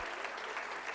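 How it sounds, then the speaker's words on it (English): Audience applause at a graduation convocation ceremony, a steady dense wash of many hands clapping throughout, fairly distant and even. "We can clap loudly"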